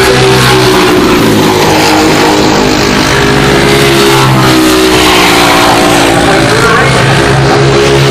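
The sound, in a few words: race cars racing on track, 206 Cup race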